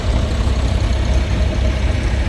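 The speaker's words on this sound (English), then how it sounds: "Tremendous torque with that big two-cylinder diesel." A 1953 John Deere two-cylinder diesel tractor, the company's first diesel model, idles in a threshermen and collectors show parade with a steady, dense low rumble held close and loud, with no talking.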